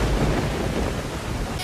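A rain technique effect from the Naruto anime: a dense, steady downpour hiss, loud and continuous, with no voices.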